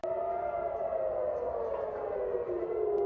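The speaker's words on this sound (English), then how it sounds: "Sirens wailed in Tel Aviv." A civil defense air raid siren in Tel Aviv wails steadily and loudly, its tone slowly gliding downward, with no voices present.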